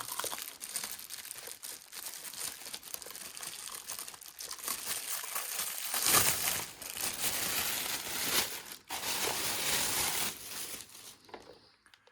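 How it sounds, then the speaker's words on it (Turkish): Plastic bag packaging crinkles and rustles continuously as it is pulled off a newly unboxed electric fan motor, close and steady with a louder crumpling burst near the middle and fading at the end. "Şunun poşetini de çıkartalım."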